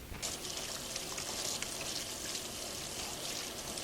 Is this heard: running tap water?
yes